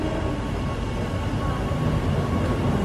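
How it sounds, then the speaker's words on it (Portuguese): A train arrives on the line down from the largest volcano in France, near Clermont-Ferrand, heard as a steady, broad rumble with a faint hum, continuous and fairly close throughout. "E chegou nosso trem de volta para descer."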